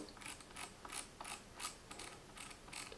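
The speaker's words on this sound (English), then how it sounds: "We have an aluminium 3D media wheel." An aluminium 3D media wheel on a quiet mechanical keyboard turning, giving a rapid series of light ratcheting clicks and ticks, close and fairly quiet, with no talking.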